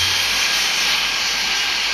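Airplane engines from the video game Airport Madness 3D give off a steady, loud jet roar and hiss that holds unbroken throughout, with no voices.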